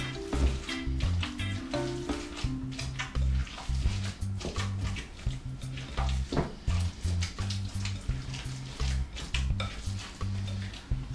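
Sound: mixing meatball mixture by hand

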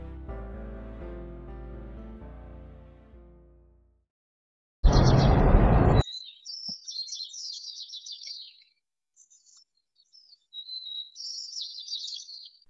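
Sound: bird sounds isolated from an audio track

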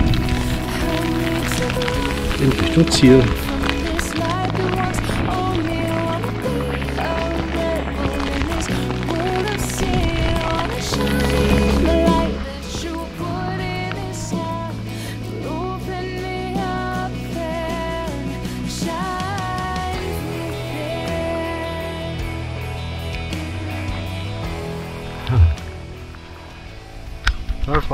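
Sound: heavy rain shower

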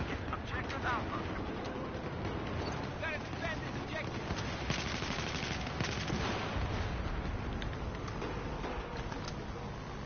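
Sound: gunfire in the video game Battlefield 4

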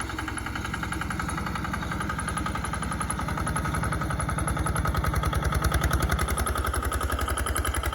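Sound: 4x4 riding lawn mower engine towing a one-ton trailer

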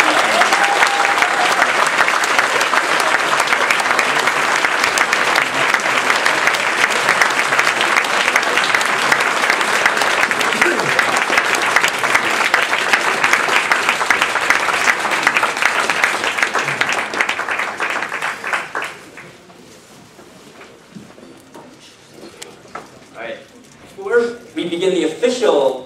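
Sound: audience applause at Toastmasters contest

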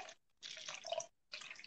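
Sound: water poured into a cup

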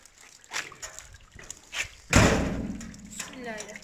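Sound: door being shut and locked

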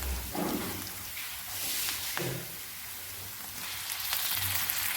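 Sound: golden fried onion sizzling in a pan

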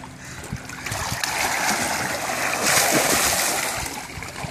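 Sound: water splashing during a swim

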